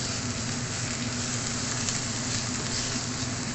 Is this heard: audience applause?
no